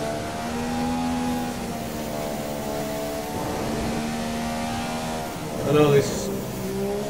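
Engine of a 2015 McLaren Formula 1 car in the F1 2015 game at Australia qualifying, a steady droning whine holding pitch with a brief rise near the end, a voice speaking briefly over it.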